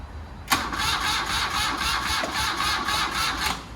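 A motorcycle engine cranks weakly on its starter with a sluggish, rhythmic churn that begins abruptly and continues steadily without firing.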